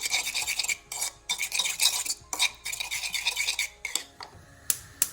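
Rhythmic scraping and clinking of a utensil stirring potato starch or corn flour with light and dark soy sauce in a bowl, close and steady with brief pauses.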